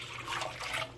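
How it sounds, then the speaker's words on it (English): Four cups of water poured into a cooking pot for a turkey brine concentrate, a brief splashing, gurgling stream heard close and fairly quiet with no speech. "I'm going to put 4 cups of water in there"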